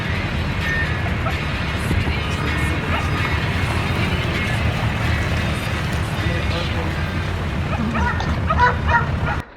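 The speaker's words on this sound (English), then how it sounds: "Sorry about the dog barking here." A dog barks repeatedly nearby while a person talks over it, with steady outdoor background noise throughout, on Negros in the Philippines.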